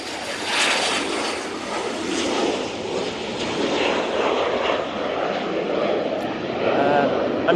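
A Singapore Airlines jet departs Manchester Airport with a sustained, fairly loud engine rumble that holds steady and rises slightly near the end, with a faint whine appearing late.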